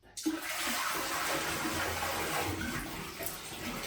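Toilet flushing after a wax-free seal installation, a sudden rush of water that settles into a loud steady gush, close by, with splashing near the end.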